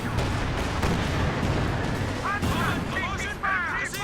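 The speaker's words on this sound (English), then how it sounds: "We see a high explosive barrage coming in this vicinity from the pack howitzer." High-explosive shells from a pack howitzer barrage land in a video game battle, a steady rumbling wash of distant booms and blasts with a voice talking over it throughout.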